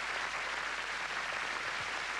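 An audience applauds a 19-year-old billiard player, steady dense clapping that fills the room at moderate loudness without a break.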